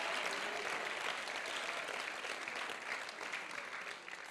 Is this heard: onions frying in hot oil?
no